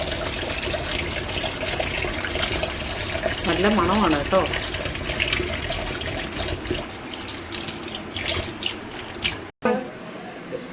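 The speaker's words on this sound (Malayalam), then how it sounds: "എൻ്റെ കൈ ഞാൻ വാഷ് ചെയ്ത് കണ്ടോ നല്ല പതയുന്നുണ്ട്" A running tap pours over hands being lathered with homemade natural soap, steady splashing water near the microphone with someone speaking over it before the flow cuts off near the end.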